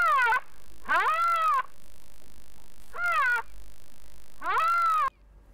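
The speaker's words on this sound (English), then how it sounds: "the answer is a rhinoceros" A rhinoceros gives four high, squealing, mewing calls, each bending in pitch, separated by short pauses. They are clear and fairly close over faint background noise, with no talking.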